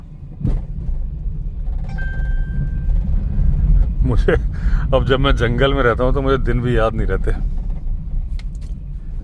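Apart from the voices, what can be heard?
heavy vehicle traffic on forest road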